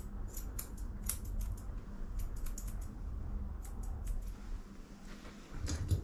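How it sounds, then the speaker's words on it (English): Scissors snip through a matted Border Collie's fur during a deshedding groom, a run of quick, close, crisp cuts in uneven bursts, with no talking. "So we'll get our scissors and snippy snip that down."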